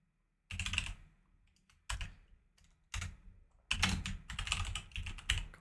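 Bursts of typing on a computer keyboard while filling in contact name fields for data entry, with quick clustered key clicks separated by short pauses and no talking.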